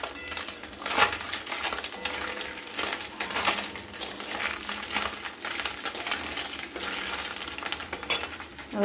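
Small chela fish frying in hot oil in a pan, a steady dense sizzle throughout with occasional stirring and light clinks of a utensil against the pan.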